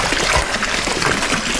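Hawaiian Punch poured from a container, making a steady, close, continuous liquid trickle and splash, like a small water feature, with no talking.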